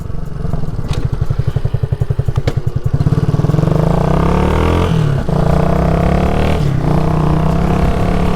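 A Suzuki Van Van 200 single-cylinder motorcycle engine while riding, loud and close, with a fast chugging pulse that then rises and falls in pitch as the rider shifts and changes revs, under wind noise.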